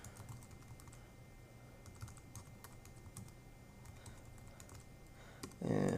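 A username is typed on a computer keyboard in quick, light, irregular key taps over a quiet room hum, ending in a brief louder rustle.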